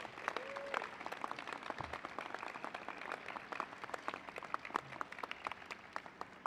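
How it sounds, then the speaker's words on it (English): An audience at a mayor's announcement of federal funding for the Central Subway project gives steady, sustained applause, many hands clapping at a moderate distance with no talk over it. "Would you give him a big round of applause"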